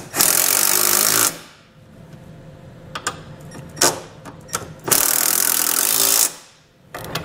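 Power tool rattles in loud sustained bursts, likely an impact gun or ratchet driving trailer hitch bolts on a 2013 Ford Escape, with clanks and metallic clicks between the two long runs.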